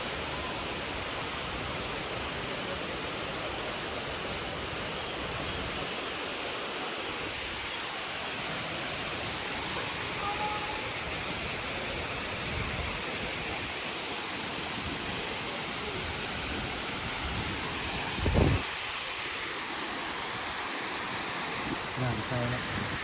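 A forest waterfall at Tad Siang Lue near Bualapha, Khammouane province, Laos, roaring as a steady broadband wash of falling water throughout, with a brief knock near the end.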